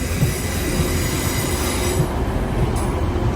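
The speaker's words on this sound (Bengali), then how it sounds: "অলরেডি আমি ট্রেনের ভিতরে চলে আসছি।" A train at Blackpool North station, heard from on board as it moves: a steady, loud rumble of wheels and carriage with occasional squeals, and no talk.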